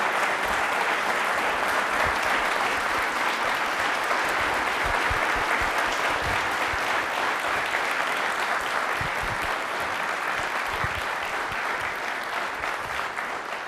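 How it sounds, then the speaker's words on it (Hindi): A university audience gives a long, steady round of applause for the vice chancellor, many hands clapping in a dense, even roar that holds at moderate level for over thirteen seconds without talk. "तालियां प्लीज एक बार जोरदार सर के लिए"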